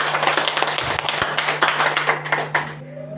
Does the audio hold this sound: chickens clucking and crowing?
no